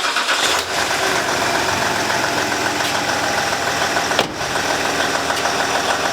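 Land Rover LR4 engine cranks over and settles into a steady idle, a close, even mid-pitched hum with a short dip partway through, no talking.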